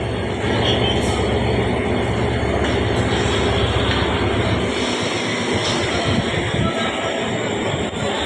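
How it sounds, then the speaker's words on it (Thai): A freight train carrying motorcycles rumbles past nearby in a steady, loud roar of rolling wheels and clatter that continues throughout. "ไปกับรถไฟนะพี่น้องขบวนสินค้า"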